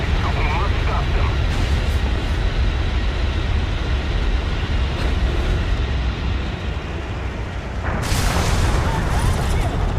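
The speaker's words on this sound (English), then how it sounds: "Yes, that was a friendly bomb that just flew past my face." In War Thunder, a dive bomber's aircraft engine roars loudly and constantly, with a bomb exploding near the eight-second mark, and someone talking over the game.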